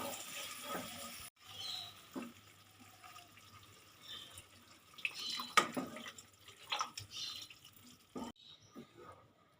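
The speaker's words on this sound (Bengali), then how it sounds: "এবারে দিয়ে দেব জল আর একটু জল দেবো" Water pours faintly into a pan of vegetarian potato and poppy seed curry cooked in mustard oil, a soft trickle and splash amid quiet kitchen clatter.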